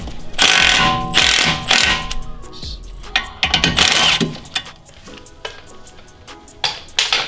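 Ratchet wrench with a 16 mm socket loosening a suspension nut during a strut and control arm job on a BMW E90, giving bursts of rapid clicking and rattling strokes up close, loud and repeated, with no talk.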